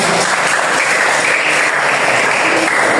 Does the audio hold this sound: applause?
yes